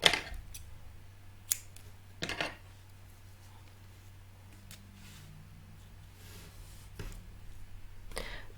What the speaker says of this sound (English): then cut a small piece of thread.